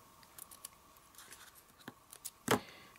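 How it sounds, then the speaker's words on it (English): Ribbon trimmed with scissors during a craft project, a single crisp snip standing out near the end after a few faint light clicks and handling noises in a quiet room. "Snip off some of the ribbon"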